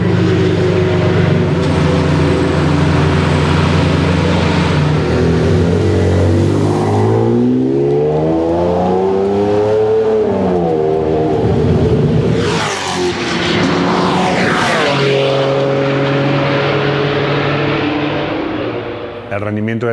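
A Ferrari Enzo V12 engine screams loud and steady at high revs, its pitch sweeping up and down through repeated gear changes, with a sharp rising howl near the end.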